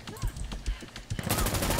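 Short, punchy gunshots crack in quick succession in Insurgency Sandstorm, a tactical PvP shooter. They are loud and close, and a denser burst of fire closes the moment.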